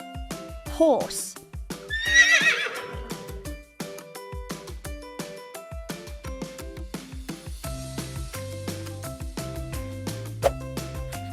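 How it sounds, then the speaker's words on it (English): A horse whinnies loudly near the start, a shrill rising neigh, followed by bright plucked music playing steadily underneath. "Horse."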